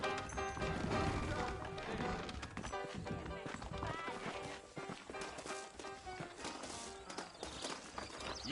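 Saddled horses clip-clop along in the Western video game Red Dead Redemption, a steady patter of hoofbeats mixed with a busy music score and game sound, moderately loud throughout.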